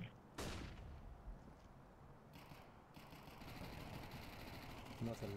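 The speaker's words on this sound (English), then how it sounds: "Deploying flashbang." A flashbang grenade detonates in a tactical video game, a sharp broadband burst early on followed by lingering noisy game ambience and distant clatter, with voices talking over the scene.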